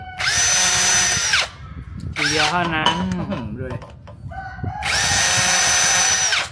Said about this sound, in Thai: สว่านสามระบบ ใช้งานได้ดีมากตอนนี้